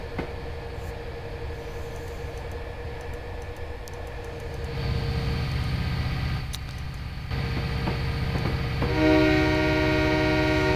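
GP9 diesel locomotives in the Railworks 2 train simulator game, a steady low engine rumble that swells partway through, with a sustained multi-tone horn blast near the end and no speech.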